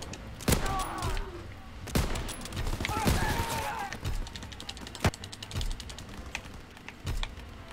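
Sharp, scattered shots from a Kar98 bolt-action rifle in a first-person shooter game, about six crisp reports spaced a second or so apart over a busy background of game noise.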